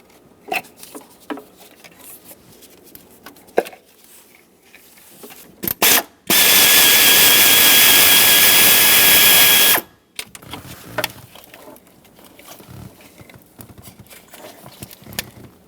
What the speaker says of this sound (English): Remove all the bolts.